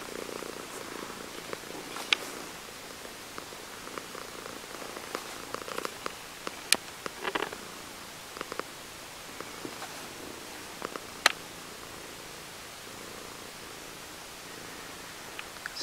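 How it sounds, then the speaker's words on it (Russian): A pet cat curled up lying down purrs in a soft, continuous rumble close to the recorder, with occasional faint rustles and small clicks over the steady purr. "Мурлыкает, да. И мурлыкает, да."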